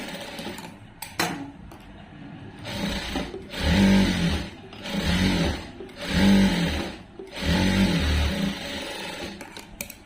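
A sewing machine stitching a blouse in a tailoring class runs in four steady bursts of whirring stitches, each a second or so long, separated by short pauses with light handling noise.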